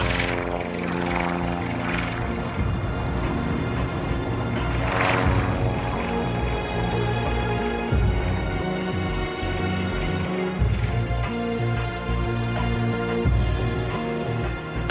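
Loud, steady engine and propeller drone of a 1950s-era Aerocar flying car cruising in flight at around 80–85 mph, filling the whole stretch with harmonic buzz and a rushing wind wash, with no talk over it.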